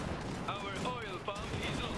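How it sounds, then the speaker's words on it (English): Field cannon firing in the video game Iron Harvest: a couple of muffled booming bursts set against dense battle noise, with voices in the game mix. "Field cannon, fire!"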